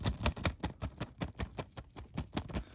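Two fake reproduction Star Wars toy blasters, a Bespin and a Stormtrooper model, shaken in a Ziploc bag: a rapid series of light, tinny plastic clacks and rattles in quick irregular bursts, close and alone.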